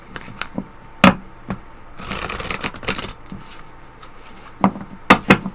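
A deck of Moonology oracle cards is shuffled by hand in a quiet room: a few sharp snaps, then a second of dense riffling, and a couple of crisp card slaps near the end.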